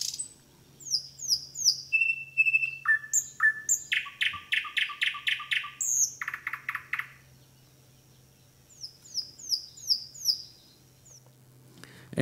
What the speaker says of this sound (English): And so thrush nightingale.